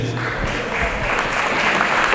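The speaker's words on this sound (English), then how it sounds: "Let's give another big round of applause to drone team." Sustained applause from an audience at a school farewell event, steady and full throughout, honoring a drone team that placed first and second nationally.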